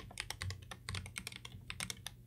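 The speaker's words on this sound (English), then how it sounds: "we'll start off with a quick sound test of the old keyboard." Rapid clacking of a GK64/GK61 mechanical keyboard, before upgrading, being typed on, close and steady, with a soft low hum underneath.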